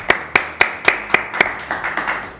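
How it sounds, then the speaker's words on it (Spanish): An audience at a cultural program gives applause, heard as about nine sharp, evenly spaced claps that soften toward the end, close and clear with no talking over them. "Por favor, un aplauso para don Isaías."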